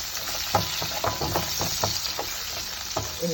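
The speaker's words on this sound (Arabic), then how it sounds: "هشوحها" Garlic sautés in rendered sausage fat, a close, constant sizzle and crackle with soft stirring taps scattered through.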